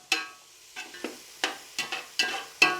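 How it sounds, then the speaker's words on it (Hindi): Onions and cinnamon sauté in a pan for chicken mandi, softening rather than browning: a run of short stirring scrapes and sizzles, roughly seven distinct bursts at an uneven pace, close by and fairly quiet. "इन सब को मैं सौते करूँगा। इन प्याज़ों को हमने सुर्ख नहीं करना, महज नरम करना है"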